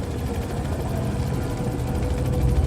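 A helicopter drones steadily overhead in the Manhunt video game, a loud, low, continuous rotor and engine rumble with no voices.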